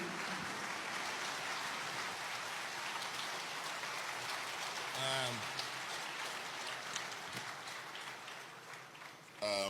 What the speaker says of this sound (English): Please join me with a warm applause as we welcome Professor Charles Soludo.